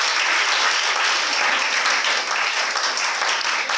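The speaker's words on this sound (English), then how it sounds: "Let's welcome them with a hand of applause." An audience at an International Women's Day celebration applauds to welcome poetry reciters, a dense continuous wash of clapping that stays loud and even throughout with no speech over it.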